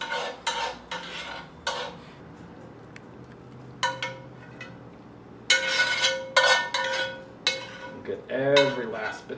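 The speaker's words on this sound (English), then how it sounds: "I'm actually going to use my spatula." A spatula scrapes the last of a thick, bubbly sauce from a pan for pork tenderloin, making a run of short scraping and clinking strokes against the metal, some sharp and close, under faint background noise.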